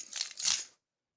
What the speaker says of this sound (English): My keys, of course.